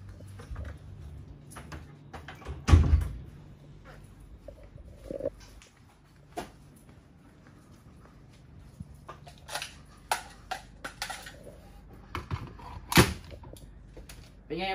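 Two sharp airgun shots from a sand-colored E&C 603DE III tuned to around 500–550 power, one early and one late, separated by quiet handling clicks and light knocks, with no talking.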